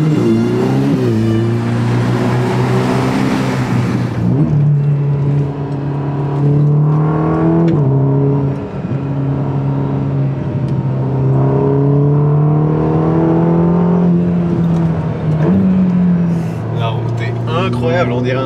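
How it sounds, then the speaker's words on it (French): A Ferrari Roma revs its engine inside an Italian tunnel, loud and close, its exhaust note rising and falling through several throttle blips with a strong echo off the walls. "Petit sound check dans un tunnel italien."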